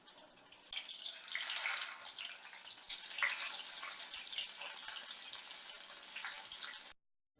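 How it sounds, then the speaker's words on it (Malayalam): Fish fillets frying in hot oil in a pan, a continuous bright hiss and crackle that swells soon after the start and holds steady before stopping abruptly. "എണ്ണ ചൂടായിട്ടുണ്ട്. അപ്പം ഇനി ഫിഷ് ഫ്രൈ ചെയ്ത് തീർക്കാം."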